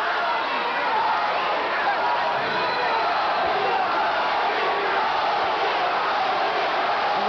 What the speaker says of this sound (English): And the crowd chants Tony